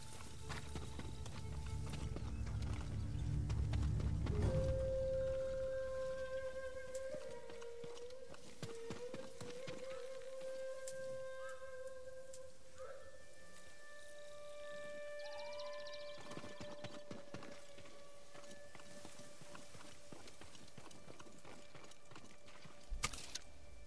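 A horse gallops in the video game Ghost of Tsushima on Iki Island, hoofbeats drumming loudly at first and then fading under sustained game music tones, faint and distant later.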